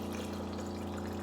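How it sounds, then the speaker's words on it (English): Water poured from above over about a quarter cup of ice in a container for a high-protein smoothie, making a steady, continuous rushing flow with a low, even hum underneath and no talking. "I'm gonna put the water just above the ice"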